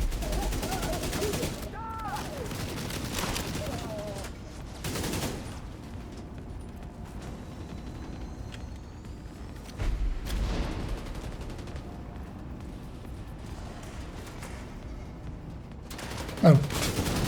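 Bursts of video game gunfire rattle through the scene, with repeated volleys and a sharper crack near the end over a dense, noisy background.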